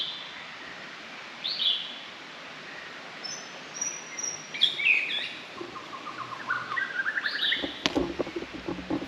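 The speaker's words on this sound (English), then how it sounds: "I hope somebody other than me is able to hear the birds in the background." Birds singing in a Hawaiian mountain forest, with scattered chirps and short trills over a steady hiss of outdoor ambience, some calls closer and brighter, with a few soft knocks near the end.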